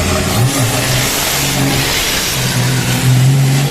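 Racing truck engine at a Chonburi truck race, revving hard and holding a long gear, a loud, close, sustained roar that rises and falls in pitch.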